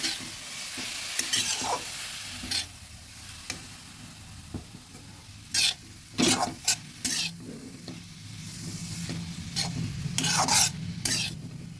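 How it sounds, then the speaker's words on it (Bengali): Carrots fry in ghee for a sweet pithe, a continuous sizzle broken by repeated bursts of a spoon scraping and stirring against the pan, with no talking. "ভালোভাবে ঘিয়ের সঙ্গে নেড়ে মিশিয়ে ভেজে নিচ্ছি বেশ"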